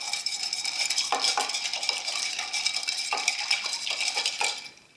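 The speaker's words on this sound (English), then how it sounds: "And we're just going to stir this up." A bar spoon stirs a French Manhattan with orange and fig bitters over ice, giving a brisk, continuous rattle and clink of ice against glass that fades out at the end.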